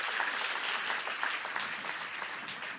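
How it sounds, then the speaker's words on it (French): A forum audience at the FIFDH 2024 human-rights film festival applauds the panelists, a dense, steady round of many hands clapping, moderately distant and without speech. "Vous pouvez les applaudir."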